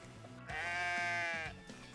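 A single sheep bleats in an animated film, one clear wavering bleat of about a second rising out of a quieter background of music.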